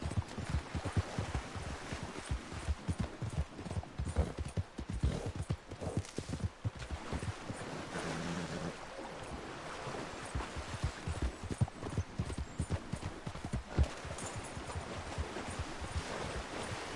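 Hooves clip-clop at a steady trot in Red Dead Redemption 2, close and continuous, over a low background rumble with faint water-like wash.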